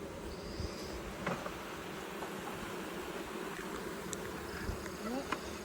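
Honeybees buzz steadily and densely throughout a Lego beehive inspection, a continuous close hum with occasional louder individual bees passing near.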